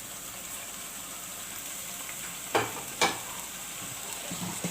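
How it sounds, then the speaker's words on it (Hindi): Chicken with masala, salt and white pepper is being fried for a murgh malai curry, giving a soft, steady sizzle. Two sharp scraping strokes of the spoon stand out near the middle, and no voice is heard. "अच्छे तरीके से भूनेंगे हम, ताकि जो है ये मसाला और चिकन भुन जाए।"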